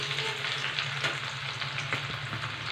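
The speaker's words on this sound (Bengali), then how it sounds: "শুকনো লঙ্কা, পেঁয়াজ কুচি, একটু নাড়াচাড়া করব।" Dried chillies and chopped onion fry loudly and continuously in a pan for a taro stolon chutney, with a dense close sizzle and occasional stirring scrapes.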